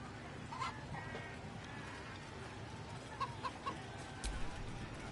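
Chicken clucking in the video game Baldur's Gate 3 during a chicken-chasing contest, a few short clucks and squawks over faint ambient background.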